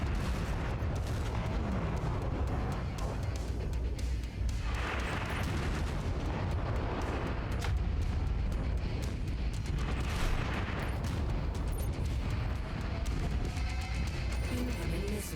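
Incoming missile explosions in MechWarrior 5: Mercenaries, a dense, continuous roar of booms and blasts layered over constant mech engine rumble, loud and sustained throughout with no clear gaps.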